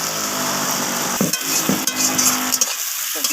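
Onions fry in a pan with a close, steady sizzle, broken by a few scraping stirs of a utensil against the pan and no voices.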